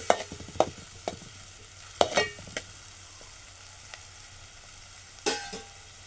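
Onion and tomato sizzle in a frying pan while a spoon stirs them, giving a soft steady sizzle broken by several distinct scraping knocks, close by and without speech.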